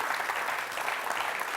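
A studio audience bursts into steady, dense applause on a televised medical talk show, a continuous crowd clapping that stays even and fairly loud throughout.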